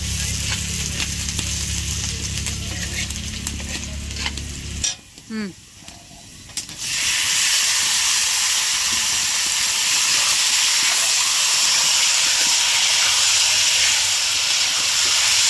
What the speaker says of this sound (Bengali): পেঁয়াজ দিচ্ছি, গরম মশলা, 8টা গরম মশলা আর 5-6টা সোমবার দিয়ে লাগছে।